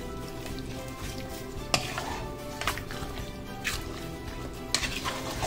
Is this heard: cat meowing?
no